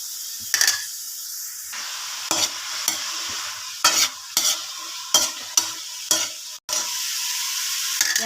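Mustard greens and egg being stirred in a hot pan, with a soft sizzle running under repeated scraping and clattering strokes of a spatula in an irregular rhythm, close and loud, with no talking.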